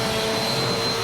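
A vacuum cleaner runs steadily on a hardwood floor, its constant whirring drone with a high whine holding at even, close-up loudness throughout with no pauses.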